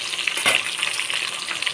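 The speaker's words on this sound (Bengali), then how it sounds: "আমার পটলটাও ভাজা হয়ে গেছে, দেখতে পাচ্ছ।" Pointed gourd (potol) frying in hot oil, a bright continuous hiss and crackle, close and fairly loud, with a brief louder burst near the start.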